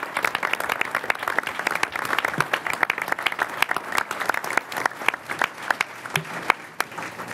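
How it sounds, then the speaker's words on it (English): A crowd at a government event gives a sustained round of applause, dense clapping continuing steadily for several seconds without letting up. "So a big round of applause for that job announcement."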